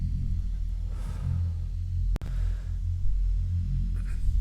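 A deep, steady neuro bass synth low band rumbles low and sustained, with a brief dropout midway before the heavy low tone resumes.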